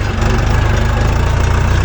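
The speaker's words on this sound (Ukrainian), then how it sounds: "трактор по асфальті рушає третьою передачею" Chinese mini tractor pulling away in third gear on asphalt, a loud, close diesel engine with a steady low rhythmic chug throughout.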